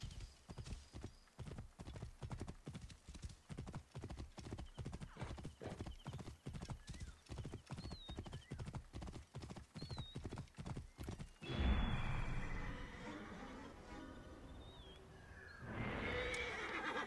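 A horse in Assassin's Creed Origins gallops in a fast, even clip-clop of hoofbeats. A loud whinny breaks in partway through, followed by more snorting and neighing.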